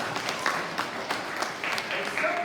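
Applause for a student at a school celebration assembly, a steady burst of clapping from the gathered audience, with voices and cheers mixed in.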